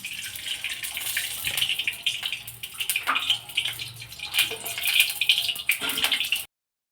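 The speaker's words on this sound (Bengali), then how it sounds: "এবার তেল দেব।" Cooking oil poured into a hot kadai for frying giant freshwater prawns, a steady liquid gush with a bright splashy hiss that swells and eases for several seconds before stopping abruptly.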